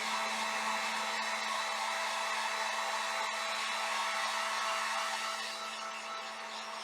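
A hair dryer blowing steadily on metallic chalk paint, a loud close continuous whoosh with a steady motor hum that eases slightly toward the end.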